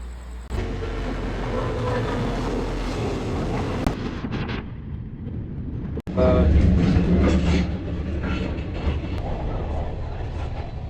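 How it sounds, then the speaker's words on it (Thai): Busy train station ambience with a steady rumble of rail noise, passing carriage clatter and indistinct chatter throughout, growing louder partway through. "กำลังเดินไปรอขึ้นรถไฟนะคะ เสียงมันอาจจะซ่าหรือนึง"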